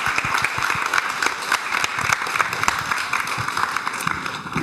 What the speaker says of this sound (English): can we have a big round of applause for Rob and John?